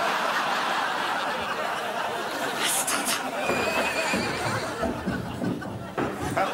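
A horse neighs and whinnies in a noisy comedy scene. The call stands out briefly against a dense wash of background noise and voices.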